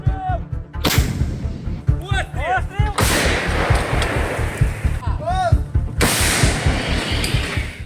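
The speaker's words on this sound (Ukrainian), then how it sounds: "Гармата!" Heavy artillery booms out in two loud, close blasts on the Zaporizhzhia front in Ukraine, each followed by a long rumbling echo, while people talk and shout amid the noise.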